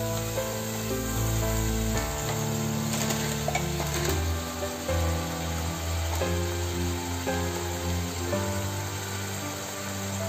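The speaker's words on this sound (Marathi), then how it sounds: "मसाला छान फ्राय करून घेऊ।" Masala frying in a pan for an eel fish curry, a steady close sizzle with stirring scrapes over a constant background hum.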